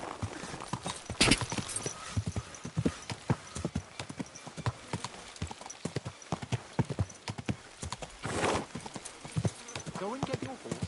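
Horse hooves clip-clop in an uneven rhythm with a loud neigh or snort partway through, from the video game Kingdom Come: Deliverance II, under bursts of in-game speech.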